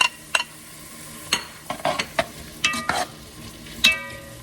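Onions, green peppers and tomatoes sizzle steadily in a pot for chicken chili while a spoon stirs them, scraping and clattering in scattered bursts against the quiet frying bed.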